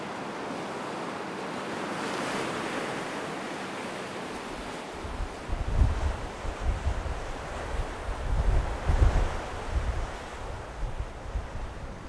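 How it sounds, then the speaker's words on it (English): Atlantic waves crash and wash against red sandstone cliffs on the Magdalen Islands, building from steady wind-blown surf into louder, repeated surges of breaking water close to the microphone, with no voices. "these cliffs of red sandstone lashed by the waves of the Atlantic"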